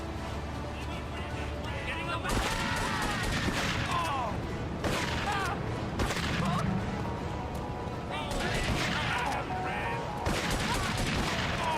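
Shotgun blasts and return gunfire in a GTA III Definitive Edition shootout against triad gang members, dense repeated shots and crashes throughout, loud and continuous with someone talking over the action.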